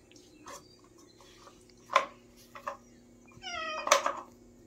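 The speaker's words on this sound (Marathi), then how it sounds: "मांजर आलाय" A cat meows beside a wood-fired stove where pomfret is being fried: a few short, scattered mews, then one longer drawn-out call, fairly close, with no one talking.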